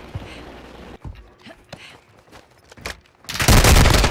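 Bursts of rapid gunfire crackle in a game, sharp scattered shots giving way to a loud, sustained volley at the end; Portuguese-speaking players talk around it.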